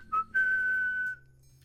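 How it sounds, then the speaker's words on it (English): A single clear whistled tone, a brief blip followed by a longer steady held note lasting under a second, close and alone over a faint low background hum. "Who's whistling?"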